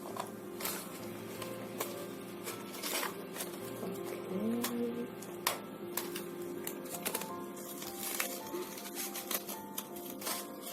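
Repeated clipping and snipping as artificial flower stems with metal wire inside are cut by hand, a steady run of sharp clicks over a faint background hum.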